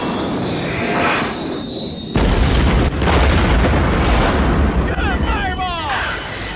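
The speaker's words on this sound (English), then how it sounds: "the fuel tank hit something and blew up" A fuel tank blowing up in a war film's fighter jet missile chase: a sudden loud boom cuts in partway through, then rumbles on under dense action effects, with a whooshing sweep near the end.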